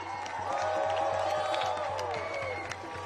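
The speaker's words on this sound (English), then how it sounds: "Clap it up louder, y'all!" A May Day rally crowd in New York claps and cheers after a chorus performance, dense applause with whoops and shouts rising then easing, fairly distant and diffuse, with some voices mixed in.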